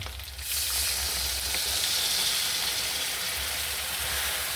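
Water hits a hot pan of frying blue swimmer crab curry made with curry powder and roasted chili paste, setting off a loud, close, steady sizzle that starts abruptly and holds for several seconds.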